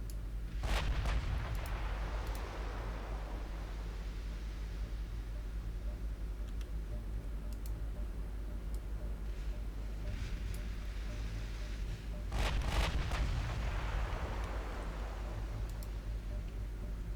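Battleship gun salvos in Ultimate Admiral Dreadnoughts: two faint, distant booming blasts about twelve seconds apart, separated by a low, continuous rumble.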